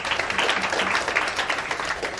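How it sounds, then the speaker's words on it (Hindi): Audience applause at a motivational business meeting, a dense and steady round of clapping, moderately loud, with no talking over it. "आप लोग के माध्यम से जबरदस्त तालियां"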